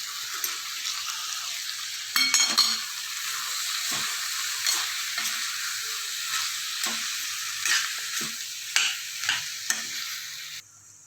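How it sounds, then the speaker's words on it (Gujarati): Dry potato sabzi being stirred and mixed in a pan, a steady soft sizzle under repeated scraping and clinking of the spoon against the pan. "ચા સૂકી ભાજી સરસ મિક્સ થઈ ગઈ છે"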